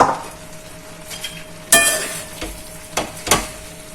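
Chicken keema with methi being stirred in a pan, a soft sizzle under a few sharp spoon scrapes and knocks against the pan, spaced irregularly.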